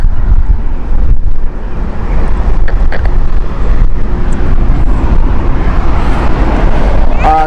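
Strong wind at Heathrow Airport buffets the microphone in loud, rumbling gusts, with faint noises beneath the constant roar.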